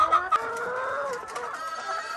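Pastured chickens in an A-frame egg mobile cluck and murmur close by, with a few sharper squawks early on over a busy barnyard background.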